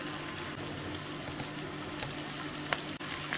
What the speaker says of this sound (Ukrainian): Грибочки смажаться вже 10 хвилин. І ми додаємо капусту.